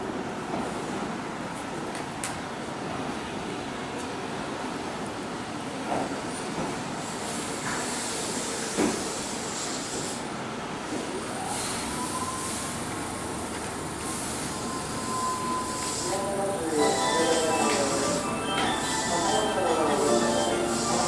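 A Keihan electric train moves at the Hirakata-shi station platform during the evening rush, a continuous rolling rumble with hiss and faint wheel squeals building toward the end, while a platform announcement voice plays over it.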